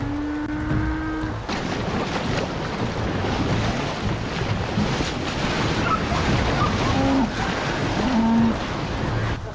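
Rushing water of a flooded river as a herd of cattle crosses, a steady loud broadband roar with wind buffeting the microphone throughout, and a brief low animal call near the start and a few faint moos later.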